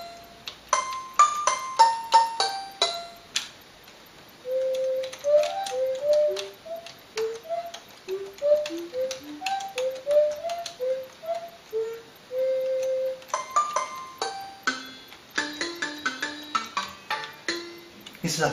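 Pygmy scale played on a keyboard through Tune Smithy software: a run of soft, plucked-sounding single notes stepping up and down at a loose, unhurried pace, with clicking and tapping sounds around them.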